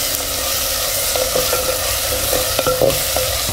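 Chopped tomatoes sautéing in a hot pan for a ridge gourd bhaji, a steady close sizzle broken by light spatula scrapes and clicks against the pan, with no voices.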